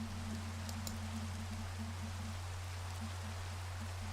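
Steady rain in Minecraft, a soft continuous hiss of falling drops that stays even and fairly faint throughout, with a low hum running beneath it and no talking.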